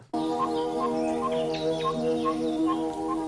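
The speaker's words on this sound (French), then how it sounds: "C'est lui, quand il détecte, il fait bip, bip, bip, bip. Ah, c'est un oiseau qui bip." A bird gives repeated high beeping chirps, roughly evenly spaced, over a steady tonal electronic-sounding hum that runs through the whole stretch, fairly clear and close.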